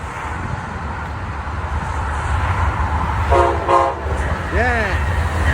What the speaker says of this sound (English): We're waiting for the Amtrak to pass through.